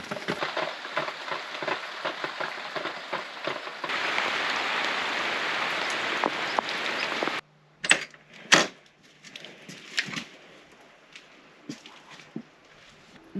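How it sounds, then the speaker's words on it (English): Rain drumming on plastic sheeting at an off-grid building site in Portugal, a dense close patter that swells heavier midway, then stops, leaving a few scattered sharp knocks and drips. "enjoy the pitter-patter of the raindrops on the plastic that is doing absolutely"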